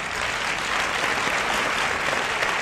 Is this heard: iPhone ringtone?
no